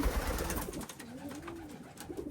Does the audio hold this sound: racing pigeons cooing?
yes